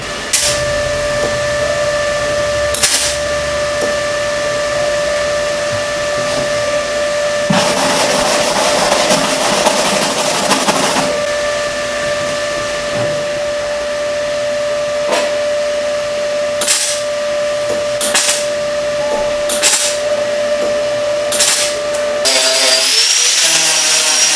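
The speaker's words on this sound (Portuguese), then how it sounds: "Tem que esmerilhar e soldar." Grinding and welding a metal patch onto the roof of a Santana car in a home garage: a loud, sustained machine whine with harsh bursts of grinding and short crackling hits.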